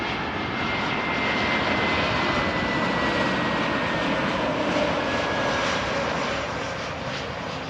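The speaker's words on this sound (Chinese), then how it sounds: "好，我们来看降落的飞机啊，朋友们，降落的飞机又来了" Sichuan Airlines passenger airplane landing, a loud steady jet roar close by that holds evenly throughout with no talk over it.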